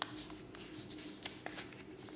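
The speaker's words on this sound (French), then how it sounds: "tu prends les deux photos, tu vas les plier comme ça" Two photos being folded by hand produce soft, close paper rustles and creases, quiet and continuous with a few light crinkling taps and no talking.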